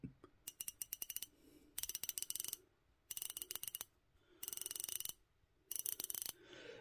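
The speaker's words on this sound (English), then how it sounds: "The bezel itself is 120 quick click, unidirectional." The 120-click unidirectional bezel of a Cadola Noumea 200m vintage-inspired diver watch is turned in five separate bursts of rapid, crisp, close-up clicking, with short quiet pauses between them.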